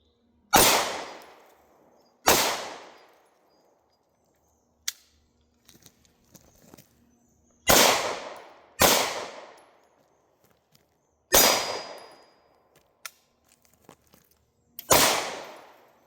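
Six sharp, loud pistol shots from a Hi-Point C9 being test fired, each with a ringing decay, spaced irregularly with pauses of a few seconds and faint handling clicks between them.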